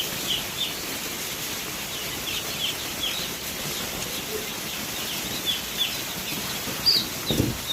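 Faint, high chirps from a batch of 1,500 newborn chicks being loaded for delivery, scattered over a steady background hiss with a brief low thump near the end.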